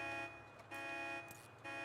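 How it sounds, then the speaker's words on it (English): A stolen Rapid GT sounds its alarm in a GTA game, a steady tonal honk pulsing on and off in even bursts, faint and mechanical. "if the alarm could stop, that would be rather nice"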